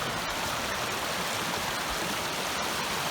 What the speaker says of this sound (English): As I cross a little brook.